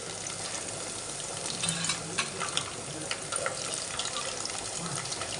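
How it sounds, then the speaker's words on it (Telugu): Soft, steady sizzle of onions and potato pieces frying in a pan for Telugu-style tomato rice, with light stirring scrapes and small crackles, fairly quiet and without talk. "ఆనియన్స్ బాగా ఫ్రై అయిపోయినాయి"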